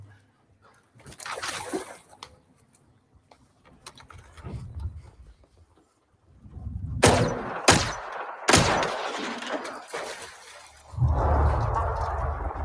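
Three sharp gunshots from a video game, the first two close together and the third following after a short gap, loud and near, with rumbling game sound and ambience before and after.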